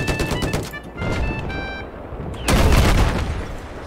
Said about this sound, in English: I'm only controlling the fucking machine gun